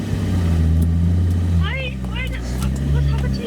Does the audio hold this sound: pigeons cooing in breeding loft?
no